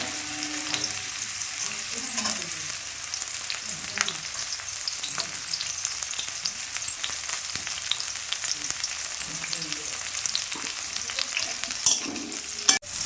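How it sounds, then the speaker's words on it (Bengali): Sliced bitter gourd frying in a little oil in a kadai for shukto, a continuous close sizzle with the scraping and stirring of a spatula throughout and no voices. "করলাগুলো ভেজে নিলাম।"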